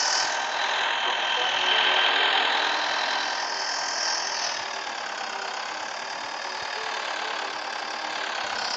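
A tractor engine runs in Farming Simulator 14, a steady droning hum with a faint knocking texture that holds evenly throughout, with no voices over it.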